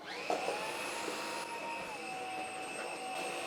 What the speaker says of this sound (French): il va permettre d'aller aspirer sous les canapés par exemple ou sous les lits